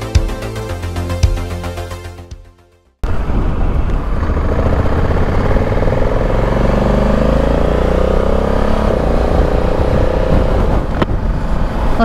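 A motorcycle engine starts and settles into a steady, loud running drone as the bike heads out on the road toward Lincoln, continuous and close with no talking, after a brief stretch of music that fades out.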